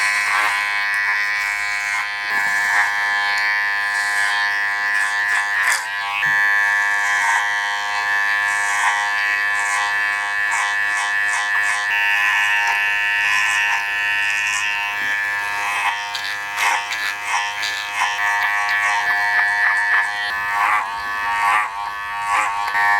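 Electric hair clippers fitted with a number 3 guard buzz continuously and close, cutting hair with a steady high hum that shifts slightly as the blade moves through the hair.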